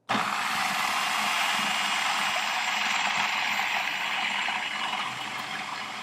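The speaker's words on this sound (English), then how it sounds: "So I'm just going to turn this on and then pour this into the feed tube" A Cuisinart Elemental 13 Cup food processor runs while oil is poured into its feed tube, a loud, steady motor whir with a watery rushing texture that starts abruptly and holds, easing slightly toward the end.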